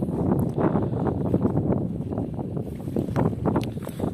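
Strong January wind gusts through a garden orchard of young fruit trees, a dense continuous rumble and buffeting roar against the microphone that swells and eases without pause.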